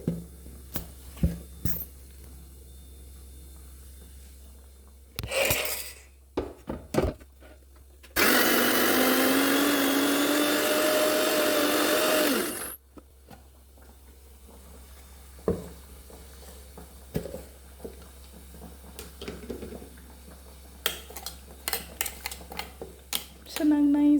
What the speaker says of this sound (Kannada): ಚೆನ್ನಾಗಿ ನೈಸಾಗಿ ರುಬ್ಕೋಬೇಕು